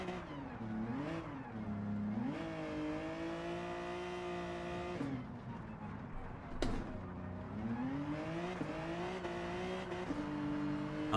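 A race car in a racing video game revving hard as it slides sideways under throttle, the engine note repeatedly climbing and dropping in pitch over steady tire noise, fairly loud and continuous.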